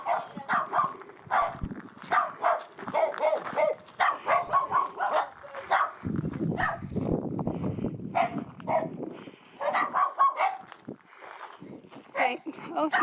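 A dog barks repeatedly and sharply at close range during a street walk in Colombia, the barks coming in irregular bursts while people talk over them and footsteps sound.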